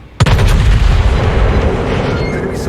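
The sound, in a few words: battleship main gun salvo firing, naval video game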